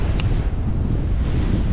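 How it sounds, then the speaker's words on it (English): Strong wind gusts buffet the microphone on Rutherford Beach, Louisiana, a loud, constant low roar and rumble that barely lets up, with no voices. "The wind is whipping."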